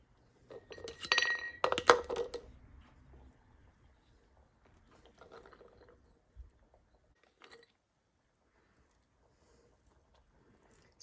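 A slotted spoon clinks against glass canning jars while ham and bean soup is ladled in, a cluster of bright, close clinks at the start, then a few softer scattered taps and scrapes amid quiet.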